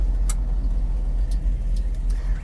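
A 1966 Chevrolet Nova with a manual transmission drives along, its engine a steady low rumble from inside the cabin, with a few faint clicks and ticks over the drone.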